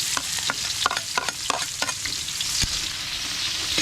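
Garlic and onion sautéing in a pan, a steady broadband sizzle with repeated sharp scraping strokes of a stirring utensil, close and fairly loud, with no talking.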